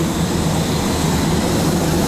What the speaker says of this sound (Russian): Ведем наш репортаж из самолета.